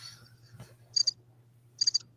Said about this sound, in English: You hear the crickets, man?